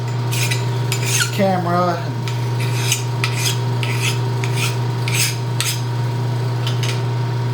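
A hand file rasps across a metal part in repeated even strokes, about a dozen bright scraping bursts, over a constant machine hum with a brief rattle early on.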